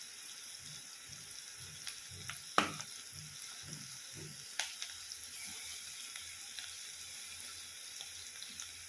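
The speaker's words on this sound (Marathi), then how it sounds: "कढीपत्ता टाकते" Curry leaves sizzle in hot oil for a green chickpea chutney, a soft steady fizz with scattered crisp pops and crackles, fairly faint and close.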